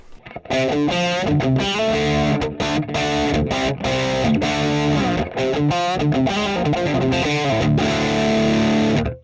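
Electric guitar heavily overdriven through an MXR FOD Drive pedal plays thick, distorted chords and riffs, loud and continuous, with a few short breaks between phrases.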